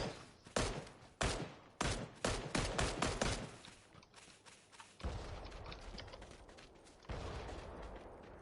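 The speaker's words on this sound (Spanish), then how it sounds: "Están disparando." Gunfire in the PUBG video game on PS4 comes as bursts of sharp shots, several quick cracks in the first half, then a denser rattle of fire and clatter, with no talk over it.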